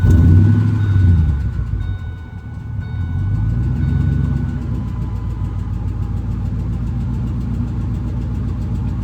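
A Ford pickup truck engine, not started in a long time, starts up with a low rumble and settles into a steady, loud idle that continues throughout.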